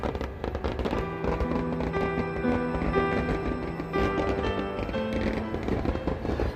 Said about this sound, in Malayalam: കാവശ്ശേരി പൂരത്തിൻ്റെ പകൽ വെടിക്കെട്ടാണ് ഇപ്പോൾ നടക്കുന്നത്.